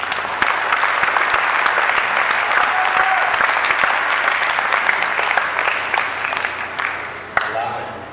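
A gymnasium crowd at a college commencement applauds the graduates and valedictorians, with steady, dense clapping and light cheering that holds from start to finish and thins out near the end.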